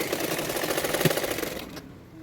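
A sewing machine stitching lace onto a peplum top: a rapid, even mechanical whirr of needle strokes that runs steadily, close and clear, then stops abruptly near the end, with no voices.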